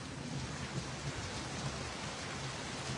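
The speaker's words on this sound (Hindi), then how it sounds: "पत्रकार भाई जावेद इस टाइम भी इस बरसात का लाइव दिखा रहा है" Heavy rain lashes down with strong wind during a night storm in Losal, a steady loud dense wash with no pauses and no voices.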